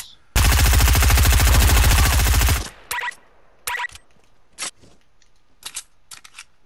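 A new gun fires a long rapid automatic burst in Fortnite, a loud machine-gun rattle lasting about two seconds, then several shorter shots and clicks trail off.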